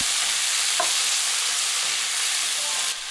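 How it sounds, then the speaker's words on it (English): Chopped pepper, pineapple and cherry tomatoes sizzle steadily in a hot frying pan, a bright continuous hiss with a brief knock of a utensil stirring partway through and a slight drop near the end. "Put the pepper, the pineapple, the cherry tomatoes. Stir from time to time for 1 minute."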